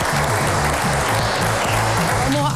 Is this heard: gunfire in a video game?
no